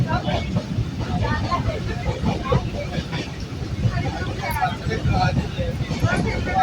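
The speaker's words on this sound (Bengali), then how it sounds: "ট্রেনে উঠে পড়েছি, ট্রেন ছেড়ে দিয়েছে" A moving passenger train rumbles steadily with rattling carriage noise and wind, heard from inside the car at moderate level; faint voices murmur beneath the continuous clatter.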